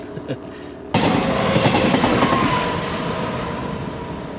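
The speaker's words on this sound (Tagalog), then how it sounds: "Tapos atinda na ng train sa likuran namin." A train passes close behind a house, its roar bursting in suddenly after a quiet start, with clattering wheels and a rumble that stays loud and then eases slightly.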